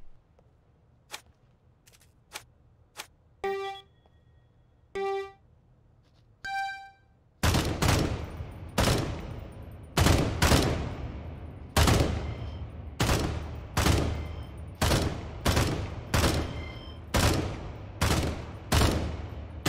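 Gunfire from a weapon in the VR shooter Contagion VR: a few sparse shots and metallic clicks at first, then a run of loud, evenly spaced booming shots, close and alone.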